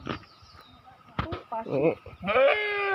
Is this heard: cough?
no